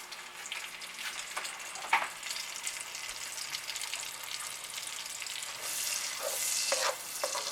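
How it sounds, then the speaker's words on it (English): Onions and peppers sizzling in a hot pan, a continuous crackling fry with some stirring scrapes, growing louder near the end. "You hear that sizzle?"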